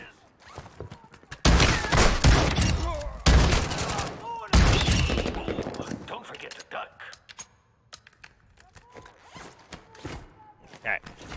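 Three loud, close shotgun blasts in a game set in the Koschei Complex, each sharp burst ringing out and decaying, followed by quieter shuffling and handling noises.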